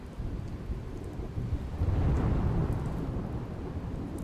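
Heavy unseasonal rain with wind and thunder in Gujarat, a continuous loud roar of rainfall and gusts with a deep rumbling swell of thunder building through the middle, no voices.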